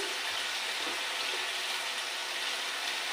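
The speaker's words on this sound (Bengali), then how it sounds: "এতে একটু হলুদ আর লবণ দিয়ে দেবো, দিয়ে এটাকে কষিয়ে নেবো" Okra curry sautéing in a pan with turmeric and salt gives a steady, even sizzle and hiss that holds close and continuous throughout, with no voices over it.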